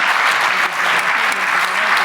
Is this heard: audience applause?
yes